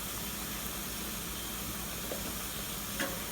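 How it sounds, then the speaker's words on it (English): Vegetables with lemongrass and kaffir lime leaf steam in a pot for a Lao steamed vegetable salad, giving a steady close hiss and faint sizzle with a couple of small clinks, and no talking. "So I need to steam my vegetable."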